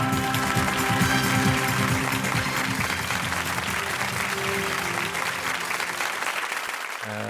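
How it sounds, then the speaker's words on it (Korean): An audience at a technology and art lecture forum applauds to welcome a speaker, dense continuous clapping filling the hall, loud and steady before fading slightly at the close. "큰 박수로 맞아주시기 바랍니다."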